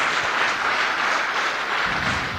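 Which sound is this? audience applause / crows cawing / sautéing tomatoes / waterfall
audience applause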